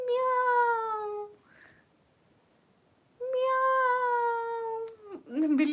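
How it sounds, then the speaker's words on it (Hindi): A cat meowing twice, each a long, clear, drawn-out meow up close, separated by a pause with a faint brief sound and followed by a short burst of other noise. "म्याऊ। बिल्ली आ गई।"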